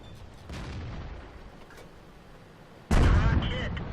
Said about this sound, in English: I had like 3 artillery hits that came in.